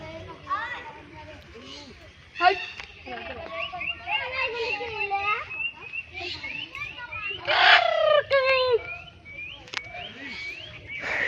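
Birds call and chirp in a wildlife sanctuary, with varied tweets and whistling notes scattered throughout while people talk nearby.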